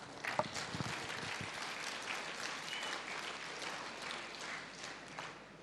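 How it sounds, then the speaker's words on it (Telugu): An audience at a business meeting claps, a steady rattle of many hands that keeps going for several seconds and fades slightly at the end. "ఒకసారి వీళ్ళకి క్లాప్స్ ఇద్దాం."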